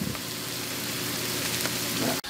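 Onions frying in butter in a pan give a steady, dense sizzle that holds close and even throughout, ending with a brief dip.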